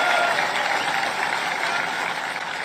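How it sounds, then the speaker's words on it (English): A crowd of troops at Fort Bragg responding loudly to a speech, a continuous wash of massed voices and clapping with no individual words standing out. "Trump goads the troops at Fort Bragg into booing the very media covering this speech."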